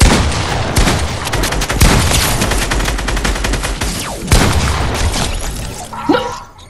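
Rapid, loud bursts of automatic gunfire and shots in the Fortnite video game, a dense, continuous barrage filling the scene with a few heavier booming hits.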